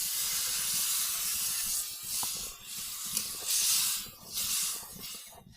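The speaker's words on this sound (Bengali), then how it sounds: "কষানোর জন্য একটু পরিমাণ মতো পানি দিয়ে দিলাম।" Water hits a hot pan of spiced curry with potatoes and fried pumpkin vadi, raising a loud, close steamy hiss that swells and fades in several surges.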